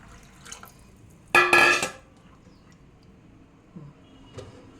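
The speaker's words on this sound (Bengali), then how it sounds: "জল দিয়ে দিচ্ছি।" Water pours into a pot of dal with a short, bright splashing gush lasting about half a second, followed by faint clinks and quiet kitchen sounds.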